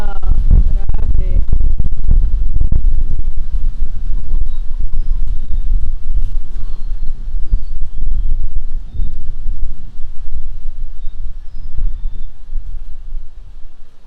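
Strong wind buffets the microphone in loud, low rumbling gusts, with faint chirps high above.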